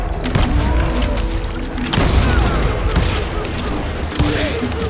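Continuous in-game gunfire from Call of Juarez Gunslinger, a dense crackling fusillade of rapid shots and impacts with shouting voices mixed in throughout, loud and busy from start to finish.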